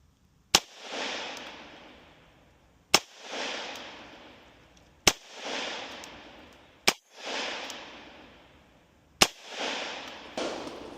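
Five loud 9mm pistol shots from an HK CC9 firing Liberty 50-grain +P ammunition crack out at irregular intervals of about two seconds, each a sharp report followed by a rolling outdoor echo, with no talking between them.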